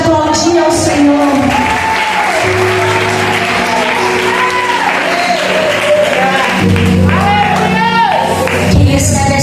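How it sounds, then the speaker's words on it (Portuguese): A congregation at a women's church service breaks into sustained applause, dense clapping mixed with shouts, whoops and raised voices filling the room at full volume for the whole stretch. "Quem crê na honra de Deus pode aplaudir ao Senhor."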